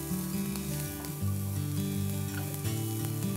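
Vegetables for a restaurant-style veg clear soup frying in a pan over medium-high flame until light golden, with a steady close sizzle running under a layer of tonal background music.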